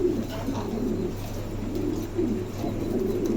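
Soft, low pigeon coos roll on continuously, several birds murmuring together at close range with no talking.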